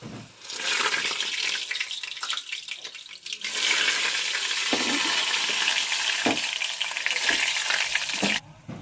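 Bok flower fritters dropped into hot oil in a kadai, a loud, dense crackling sizzle that surges as each batter piece goes in and continues steadily close up, with a few brief pauses and a sharp cutoff at the end.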